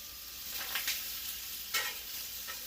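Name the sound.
food sizzling on a griddle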